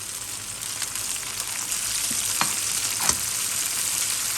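Pieces of pompano fish hit a hot oiled pan for a stir-fry with Chinese celery, giving a steady, close sizzle with a few soft scraping stirs, no voices.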